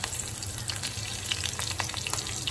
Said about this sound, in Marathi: हिरव्या मिरच्या चांगल्या परतून घ्यायच्या आहेत